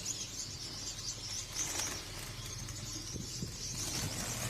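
Young yellow golden birds, three to four months old, flap their wings in a farm enclosure, a busy, fluttering rustle close by over a steady background hum, with faint chirps mixed in.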